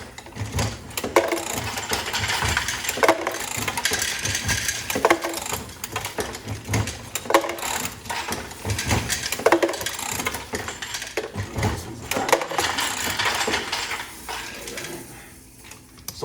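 A Dillon RL1100 progressive reloading press cranks out cartridges in a busy run of mechanical clacks, ratcheting cycles and small metallic clinks from brass, close up and with no talking.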